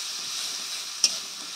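Ginger garlic paste frying in a pan makes a steady hiss of sizzling oil, with one brief scrape of a utensil partway through, close and without speech.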